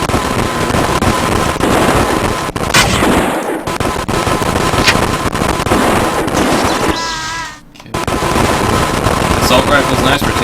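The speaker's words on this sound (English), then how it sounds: "Assault rifle's nice for taking these guys out, especially with the penetrator ammo." Assault rifle fire in the System Shock video game, dense and continuous bursts filling the clip with a brief drop near the end, heard alongside game sounds and a talking voice.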